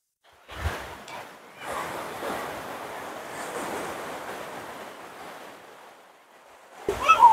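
Sea waves at Gopalpur beach in Odisha wash in as a long soft surge of surf that swells and fades over several seconds, with wind buffeting the microphone at the start and end.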